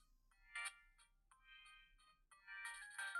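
A Siemens S65 mobile phone plays a ringtone: a bright electronic melody of short tonal notes and chords, fairly quiet and alone, ending in a busier, denser burst.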